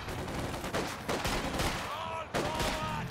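Machine-gun fire in a World War II strategy game, rattling bursts repeating over about three seconds amid dense battlefield noise, with a sharp renewed burst near the end.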